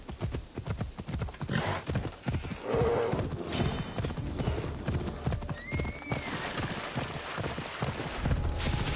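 A horse gallops in the video game Assassin's Creed Odyssey, its rapid hoofbeats drumming close and steady, with a whinny partway through and game effects layered in.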